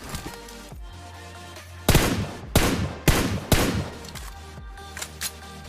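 Tap-fired long-range shots from a red-dot rifle in PUBG Mobile: four sharp, loud cracks in quick succession with short gaps, then two fainter shots, over a low background hum.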